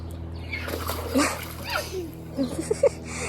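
Dog jumping into and splashing around in water during a summer outing in Canada, with several irregular splashes and a soft whimper, nearby and moderately loud, under faint background talk.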